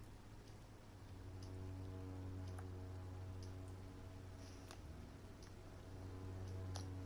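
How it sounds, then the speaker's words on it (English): Rain falls in the dark game world of Vampyr, a faint even patter with occasional sharp drip ticks over a low steady ambient hum. "It's raining."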